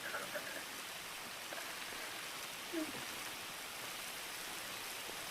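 Steady rain falls in the video game GTA 5, a soft, even hiss of drops at low volume with a couple of faint taps and no one speaking.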